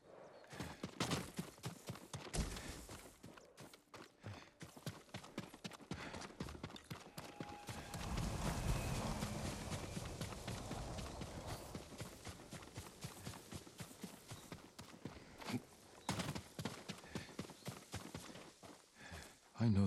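Hooves of a farm horse clip-clopping on the ground in the samurai game Ghost of Tsushima, repeated footfalls at an uneven walking pace, with a brief louder rustling passage midway and ambient game sound, no voices.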